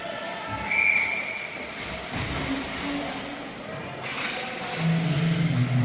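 A referee's whistle gives one short, sharp blast at an under-13 youth ice hockey game, set against echoing rink noise, crowd murmur and skate scrapes.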